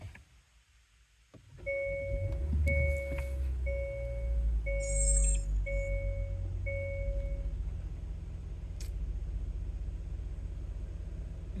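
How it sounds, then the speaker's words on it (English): A 2022 Hyundai Elantra's engine starts after a brief quiet pause, cranking into a steady low idle while a repeating dashboard warning chime sounds several times over the running engine. "Start the car."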